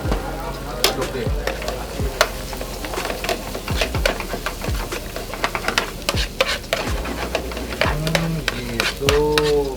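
Shallots and garlic fry in a pan of virgin olive oil for Spanish-style ayam geprek, a steady loud sizzle broken by regular scraping strokes of a spoon or spatula stirring, close up and without talk.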